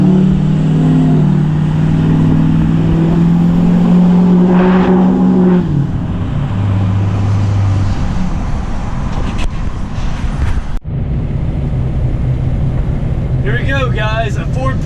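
A Ford F-250 pickup towing an old Chevy truck, with a steady loud engine drone and road noise throughout, a low hum shifting partway and a brief dropout near the end, with voices over it.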